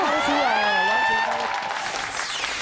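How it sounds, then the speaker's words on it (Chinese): Studio audience applause on a Taiwanese variety show, a dense burst of clapping and crowd noise that starts over a lingering sung or spoken tone and then continues on its own. "掌声鼓励一下。"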